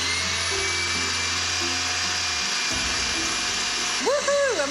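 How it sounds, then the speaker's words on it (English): An electric mixer whisks chickpea water into meringue on high speed, a loud steady whirring drone that rises in pitch near the end, with a voice joining at the close. "we just lower it down and go on high speed and whisk"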